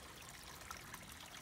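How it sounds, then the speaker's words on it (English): A 620 gallon per hour Harbor Freight pump circulates water in a backyard koi pond, giving a steady close trickle and splash that runs evenly throughout without talk. "It's a 620 gallon per hour pump from Harbor Freight Tools. And it seems to be moving that water just fine."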